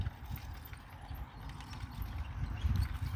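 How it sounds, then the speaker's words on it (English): Horses clip-clop through a small rural town in the south of France, with a steady run of hoof strikes at moderate distance over low outdoor rumble. "Horses."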